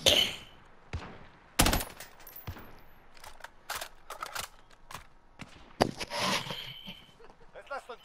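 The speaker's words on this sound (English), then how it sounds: "Shoot out that window, Adam." Bursts of gunfire from a video game shooter in a battle royale match, rapid volleys and single shots scattered across the stretch with sharp loud peaks, while players talk over the action.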